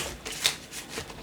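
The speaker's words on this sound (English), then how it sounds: "Last shuffle." A deck of tarot cards is shuffled in a few quick, soft riffling bursts, close and quiet, with no talking.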